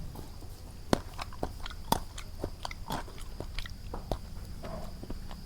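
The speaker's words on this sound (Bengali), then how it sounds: "খাইতেছি। প্রথমে পটল ভাজি দিয়ে শুরু করলাম।" Crunchy bites and chewing on crispy fried pointed gourd slices, close to the mic, a few distinct crisp bites spaced about a second apart followed by softer chewing.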